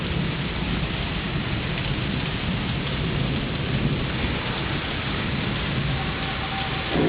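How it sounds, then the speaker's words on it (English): A thunderstorm rolling in near Ocean City, with dense, steady rain and low rumbling thunder forming a continuous broadband roar and no voices. "A life-threatening thunderstorm."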